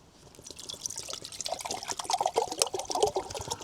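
Water pours steadily into a measuring cup with fill markings, trickling and splashing as it builds in level, close and alone with no talk, on a stormy fall camping trip.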